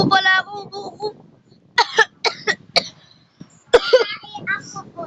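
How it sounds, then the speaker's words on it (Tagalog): Several sharp coughs, close and fairly loud, in short bursts with gaps between them, mixed with a voice talking. "Ubo pala ako. Ubo."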